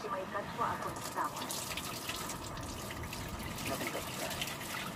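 Water runs steadily from a tap during washing, a continuous soft gushing that stays at an even level throughout, with voices talking faintly nearby.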